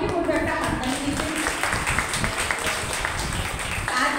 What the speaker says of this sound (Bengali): আমি বিক্রমের জন্য সবাইকে বলবো একটা হাততালি দিতে।